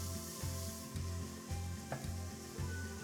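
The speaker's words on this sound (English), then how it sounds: "Now our pan's hot, we're going to add the onion." Chopped onion sizzling in a hot pan for chicken noodle soup, a dense continuous frying hiss with a soft rhythmic scraping of stirring, close and steady, with no talk.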